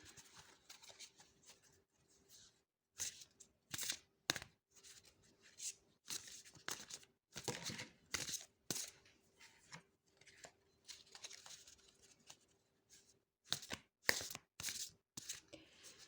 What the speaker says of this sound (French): je remélange mes cartes